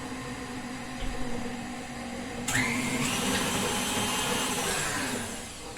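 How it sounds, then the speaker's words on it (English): A stand mixer whirs steadily as it mixes wet ingredients, with a constant motor whine that jumps louder and brighter partway through and then holds at that level. "I'm just going to mix that together in my stand mixer here."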